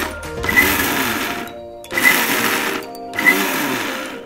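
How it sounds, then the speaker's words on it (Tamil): A mixer grinder coarsely grinds a mango mixture for burfi in three short, loud whirring pulses, each a second or so long, separated by brief pauses. "ஒரு மிக்சிக்கு நம்ம ட்ரான்ஸ்ஃபர் பண்ணிக்கலாம். மிக்சி போடும்போது கொஞ்சம் கொரகொரங்கிற டெக்ஸ்சரில் அரைச்சிக்கலாம்"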